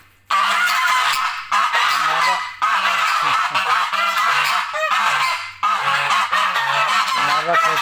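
Geese starting to brood honk in loud, close bursts, several overlapping calls repeating in quick rhythm with brief gaps between volleys.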